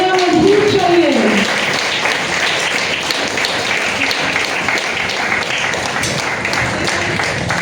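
An audience claps steadily to welcome Dr. Firoz Sarang onto the stage at a health talk, dense applause at close range that holds throughout, with a voice briefly heard at the start.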